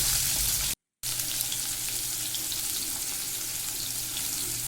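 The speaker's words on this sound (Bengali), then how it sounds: "দিয়ে আমি আলুগুলো ভেজে নেব" Potatoes fry in reused fish-frying oil with a steady, close sizzle, broken by a brief silent gap near the start before the hiss resumes evenly.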